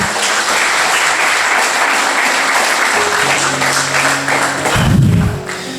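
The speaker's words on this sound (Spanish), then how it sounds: "Denle un aplauso al Señor en esta hora, mi amado" A church congregation breaks into sustained applause during a sermon; steady clapping fills the room while sustained musical tones enter partway through, and a heavy thump lands near the end.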